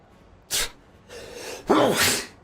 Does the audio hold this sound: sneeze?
yes